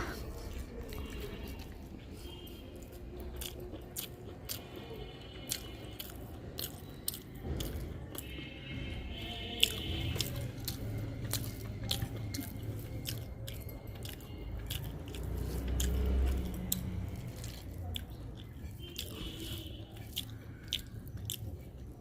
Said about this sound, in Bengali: তো শুরুতেই খাচ্ছি ফুলকপি আলু টমেটো দিয়ে ভাজি, নতুন আলু